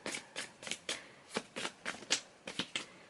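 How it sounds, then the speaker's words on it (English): Tarot cards being shuffled by hand, quiet and close, in about a dozen quick, evenly spaced riffling bursts with no talking. "I never really film when I'm shuffling the cards"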